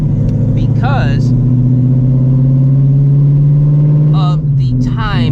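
A 1000-horsepower Ford Mustang GTD variant's engine holds a loud, steady, deep drone throughout as the car rolls out, with a person talking over it near the start and end.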